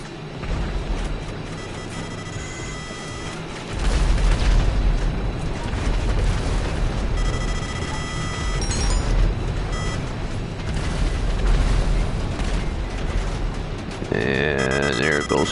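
Bombs from an aircraft bombing run in GTA V thunder as loud, rumbling explosions over steady engine drone, with a heavier blast surge partway through and ongoing booming afterward.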